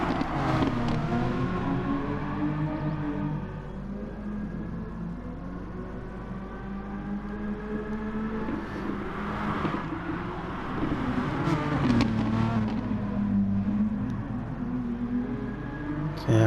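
Touring cars race around Bathurst in a video game, a continuous close engine drone with shifting, overlapping whines rising and falling as cars battle and change gears, loud throughout.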